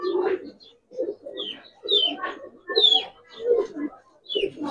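Giribaz pigeons, old-breed silver and lalpatti fancy birds, coo in repeated soft bursts close by, mixed with some higher calls.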